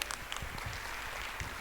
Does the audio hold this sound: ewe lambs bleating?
no